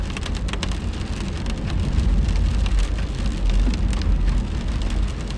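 Steady rain falls and patters on surfaces outdoors along a route lined with blooming cherry trees, a dense, continuous wash of drops with no voices.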